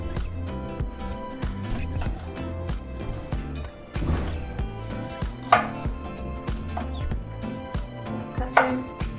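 A knife chops through fresh washed strawberries on a cutting board, a steady series of close, dull taps on the board with a few sharper knocks, alone without talk.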